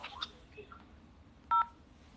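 A telephone keypad gives out a few short dialing tones, with faint murmuring and a clear single beep near the end, all quiet and close.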